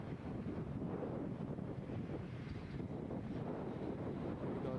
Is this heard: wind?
yes